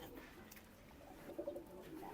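A champion racing pigeon coos softly in a loft, a faint, brief, low rolling call over quiet room noise.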